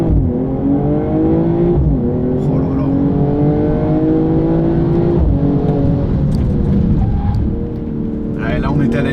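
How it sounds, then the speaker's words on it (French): A BMW M240i xDrive launches hard under launch control, its engine climbing through repeated rising pulls with brief shift dips, loud and close, and a voice exclaims briefly near the end. "je vous refais un petit launch control parce qu'avec cette sonorité"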